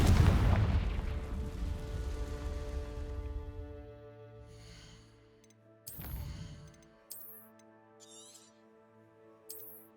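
A Confringo fire spell bursts in Hogwarts Legacy with a loud booming blast that decays into a long ringing tail, followed by several sharp crackling bursts of magical impacts.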